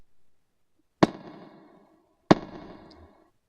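Two sharp guitar chord strums are played into an Echoplex Digital Pro looper as a basic loop. Each attack is sudden and then rings out and fades over under a second, with near silence between them.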